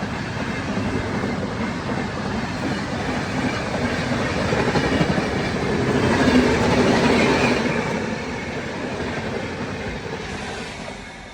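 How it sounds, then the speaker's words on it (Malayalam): The Lashkar Express 12161, running from Lokmanya Tilak Terminus to Agra Cantt, rolls on its rails with a dense, continuous roar and steady clickety-clack that swells midway and then eases off. "ഈ ട്രെയിനിൻ്റെ പേരാണ് ലഷ്കർ എക്സ്പ്രസ്"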